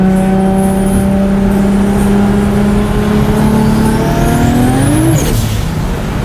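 A tuned Corvette Z06 engine pulls hard in third gear, its rising engine note climbing loudly and steadily before a sharp break near the end, close and with no talking.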